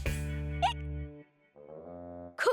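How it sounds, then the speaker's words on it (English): A cartoon character hiccups over a sustained, harmonic musical tone. Two short, sharp hiccup bursts punctuate the tone, one near the start and one at the end, with a brief pause in the middle. "Cuquin's giving you the hiccups."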